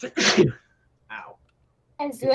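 A single sharp sneeze bursts out near the start, followed by brief spoken words from people nearby.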